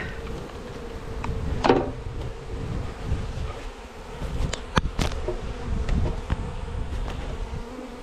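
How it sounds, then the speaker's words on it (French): Loud, agitated buzzing of many honeybees right up close as they are poured into mini nucleus hives, with scattered knocks and scrapes of handling mixed in. "je verse mes abeilles"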